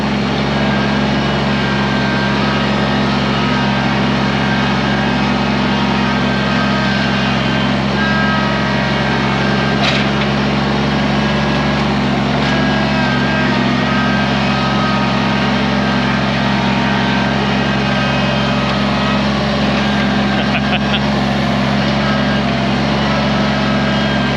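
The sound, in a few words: Kubota BX tractor engine pushing logs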